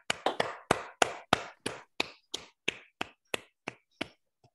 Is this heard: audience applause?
yes